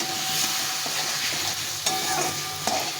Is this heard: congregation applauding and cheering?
no